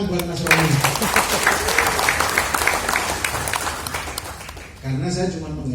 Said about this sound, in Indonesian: Tepuk tangan buat Mas Roni.